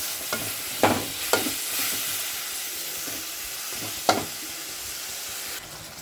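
Vegetable noodles stirred in a pan with dark soy and tomato sauce, a steady sizzling hiss under a few sharp scrapes and clatters of the utensil, close and fairly loud, with no talking.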